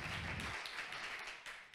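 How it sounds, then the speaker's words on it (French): Conference audience clapping at the end of a design thinking talk, a short dense burst of many hands that fades slightly over under two seconds. "je crois que ça va être le moment de vous applaudir"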